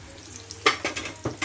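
Spices with turmeric being fried and stirred in a pan, a soft sizzle under several quick scraping stirs close up.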